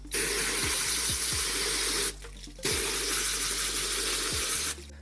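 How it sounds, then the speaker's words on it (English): Water sprays hard from a hose to rinse an Airaid air filter from a Mach 1 Mustang, a loud steady hiss that stops briefly and resumes, with a few faint thumps underneath. "let's go and give it a blast off with water and see how that comes out"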